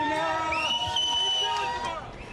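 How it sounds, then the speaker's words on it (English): A crowd outside a courthouse cheers as two convoy protest organizers walk out, with raised voices shouting and calling over a busy murmur, close and lively, and the noise tapering off at the end. "Tamara Litch and Chris Barber left court to cheers and applause"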